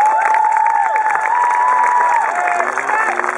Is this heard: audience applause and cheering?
yes